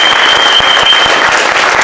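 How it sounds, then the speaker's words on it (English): Loud, continuous audience applause at a live hip hop and arts event, a dense crowd of hands clapping close by that fills the moment without talk. "Let's give a round of applause for all the artists that have gone up to this point."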